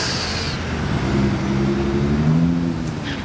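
A recent Porsche GT2 RS sports car drives by at Monaco, its engine a steady, fairly loud low drone with rising tonal harmonics over about three seconds, close to the listener, with no talking.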